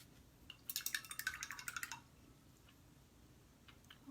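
Water drips and clicks in a quick burst of small, close ticks lasting about a second as water is added to red paint, then the room goes quiet.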